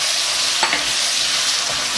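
Pieces of chicken breast fry in ghee in a pan with a steady, close sizzle and a few soft stirring scrapes, and no one speaks.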